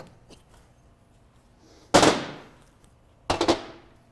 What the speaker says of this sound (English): Maybe just because I was hitting the axle shaft potentially.